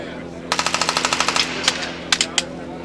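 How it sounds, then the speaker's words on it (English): Rifle fire at an outdoor shooting range, a rapid string of about a dozen sharp, evenly spaced shots followed by a few louder single shots, with people talking nearby. "So go ahead and shoot the rifle."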